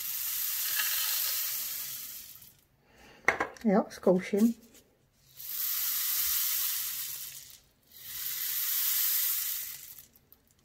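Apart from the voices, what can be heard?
homemade rain stick with beads being shaken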